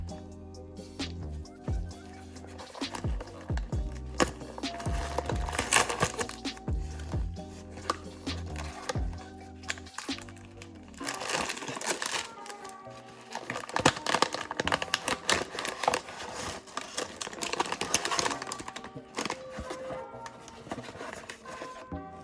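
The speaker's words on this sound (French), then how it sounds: "On va commencer par ouvrir la première boîte." Cardboard and plastic wrapping of a Pop Mart blind box from the Wealthy Snake New Year series being torn and crinkled open, close up, with busy rustling and crackling throughout and a quiet bed of background music.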